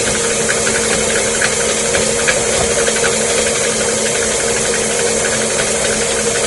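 An electric stand mixer creams orange slice cookie dough, making a loud, constant whirring drone with a steady rattling, close up and unbroken, with no voices.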